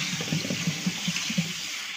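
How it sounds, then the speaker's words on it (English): Cold tap water runs steadily while cooked noodles for spring rolls are rinsed under it, with soft splashing pulses over a continuous hiss and no speech. "And rinse with very cold water."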